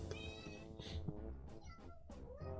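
A house cat meows indoors, giving a few close, quiet, drawn-out calls in quick succession with no talk over them.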